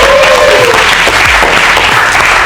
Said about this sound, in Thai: ขอเสียงปรบมือให้กับคณะกรรมการเราทุกคนด้วยครับ